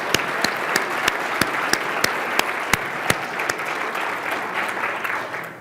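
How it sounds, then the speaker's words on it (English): An audience applauds steadily at a corporate strategy event, dense continuous clapping with a few sharper individual claps standing out, lasting the full stretch before tapering slightly at the end. "we'll give her some applause"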